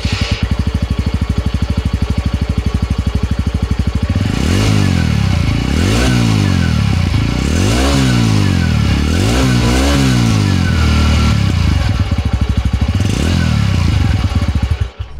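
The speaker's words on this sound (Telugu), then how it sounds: "ఈ బైక్ ఎగ్జాస్ట్ నోట్ ఎలా ఉందో ఒకసారి చూద్దాం మనం." A TVS Radeon 110cc commuter motorcycle idles with a steady exhaust thump, then is revved in a series of about six rising and falling blips before settling back to idle, loud and close with no talk.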